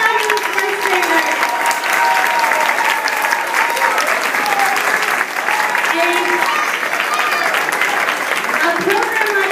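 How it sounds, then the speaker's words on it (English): A school audience claps steadily for a class of first graders at a program, dense sustained applause throughout with crowd noise mixed in. "let's give another round of applause for our fabulous first graders"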